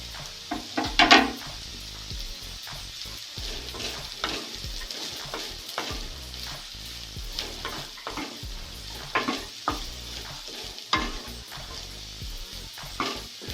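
Beans, cabbage, broccoli and capsicum stirred in a pan while cooking for vegetable soup, with repeated scraping clinks of a spoon against the pan over a soft sizzle, steady and close throughout.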